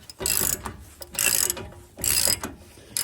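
A ratchet tightens a nut while a Coachbuilder lift for 35-inch tires goes onto a Toyota Tundra, with loud, close bursts of rapid clicking in three strokes and short pauses between them.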